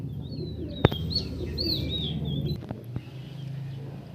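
A male pigeon at a show of foreign Andhra pigeons gives soft coos and brief chirps over a steady murmur of background noise, with a sharp knock near the start.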